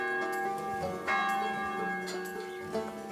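A bell rings in a bell tower, with sustained ringing tones and several distinct strikes that let the metallic resonance hang and overlap, moderately quiet.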